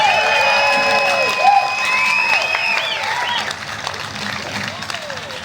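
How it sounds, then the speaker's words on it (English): Crowd applause and cheering at an outdoor political rally for a congressional candidate, with loud whistles and shouts rising over clapping before it fades. "Let's get a big warm round of applause for Orlando Sonza."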